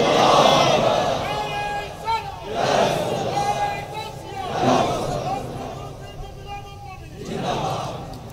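A large crowd at a religious gathering chants Allahu Akbar in loud, swelling unison calls, repeated several times in a steady rhythm, echoing across an open space.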